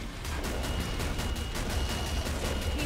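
Rapid gunfire from spam firing a weapon in Killing Floor 2, a steady stream of close, loud shots in a regular fast rhythm running the whole way through.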